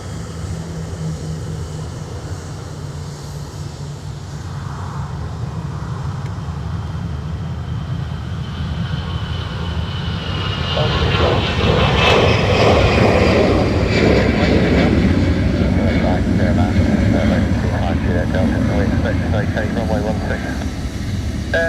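An Aer Lingus airliner departs Dublin Airport for Amsterdam, its engines building from a distant hum to a loud broadband roar about halfway through, with faint voices throughout.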